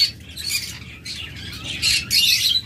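Pet cockatiels and lovebirds for sale chirp and tweet in several bright, close bursts, with quieter gaps between the calls.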